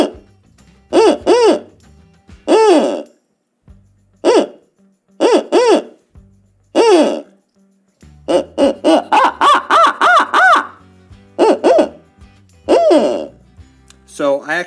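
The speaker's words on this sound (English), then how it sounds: "So I have an owl hooter here. You can make a couple different types of owl noises in there." An owl hooter locator call used for turkey hunting gives out spotted-owl-style hoots in short bursts, loud and close, with rhythmic pauses between phrases and a quicker run of hoots in the middle.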